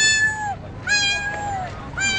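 A person imitates a cat with a voice, making three close, whining meows that fall in pitch, the first two longer and the last cut short.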